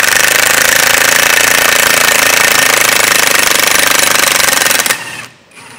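A hydraulic puller works hard on a John Deere G series dozer transmission during a rebuild, a loud, steady mechanical hammering rattle that runs for about five seconds, then cuts off abruptly into quiet.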